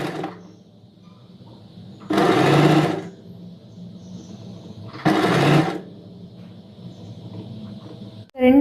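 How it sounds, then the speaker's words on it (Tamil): A sewing machine stitches the seam of a princess-cut V-neck blouse in two steady, whirring bursts of about a second each, close by, with quiet pauses between them. "அப்படியே பிரின்சஸ் கட் மாதிரி ஸ்டிச் பண்ணணும்."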